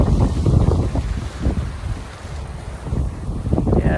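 Gusty wind buffets the microphone by a harbor at high tide on a rainy day, rough low rumbling surges rising and falling over a faint wash of water.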